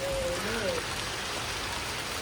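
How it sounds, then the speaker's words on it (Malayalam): Light drizzle of off-season rain falling outdoors, a soft steady hiss with faint patter that stays even and fairly quiet throughout, with a brief tonal whistle early on. "ചെറിയ ചാറ്റൽ മഴ."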